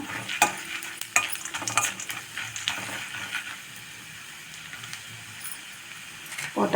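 Dried red chillies fry in hot oil for a sago chutney, a soft sizzle broken by scraping and clinking stirring strokes, close and fairly loud at first, then settling to a quieter hiss.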